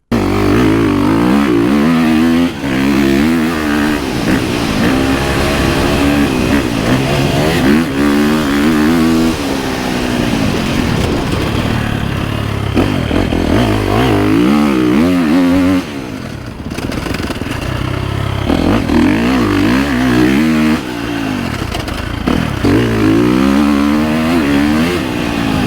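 A 2023 KTM 350 SXF dirt bike rides a turn track, its engine revving up and down in repeated loud bursts, rising and falling through throttle changes for the whole stretch with no talk.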